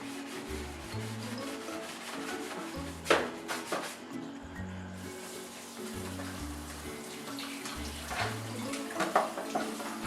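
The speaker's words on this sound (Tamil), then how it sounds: "அது ரொம்ப பிசுன்னு இருந்ததுன்னா நீங்க இந்த நார் வச்சு இப்படி தேய்க்கலாம்" A greasy kitchen pot scrubbed with a coir fibre scrubber: steady, rough rubbing strokes in a continuous rhythm with a few sharper scrapes, close up, over soft background music.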